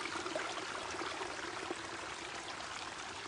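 Water pours steadily out of a big overflow pipe in a limestone-whitened area prone to flooding. The broadband rushing is continuous and unbroken, moderately distant, with no voices.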